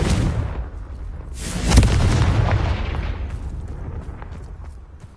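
A Confringo fire spell blasts in the video game Hogwarts Legacy: one loud, booming explosion that swells, then rumbles and fades into a long trailing decay.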